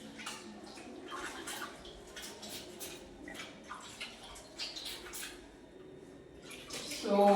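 Laundry being rinsed by hand in water during a laundry-operations practical, with faint sloshing and dripping splashes in an irregular rhythm, quiet and somewhat distant, alongside a louder splash at the end.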